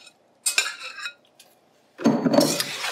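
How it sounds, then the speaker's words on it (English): Scraping cheese sauce from a bowl into a wok: two short bursts of utensil scraping and clinking against the bowl, a brief pause, then a longer, louder run of scraping, close and with no talk. "Make sure we get all that cheese out of the bowl."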